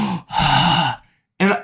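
A voice imitates heavy breathing, producing two long, loud, raspy breaths with a short pause between them, close and alone.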